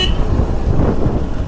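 A motorbike horn honks on a road in Nepal, heard near a Xpulse 200 4V ride, over steady traffic and engine rumble.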